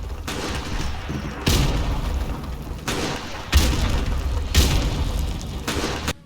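Frag grenades explode in Call of Duty 4: Modern Warfare Remastered: four loud, heavy booms at irregular intervals, each with a sharp onset and a long rumbling decay over constant battle noise.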